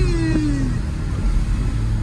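Close, loud engine rasp from a 2002 Porsche 996.2 C2 Cabriolet on the move, a brief falling rev tone after a shift settling into a steady gritty rumble, then picking up again near the end.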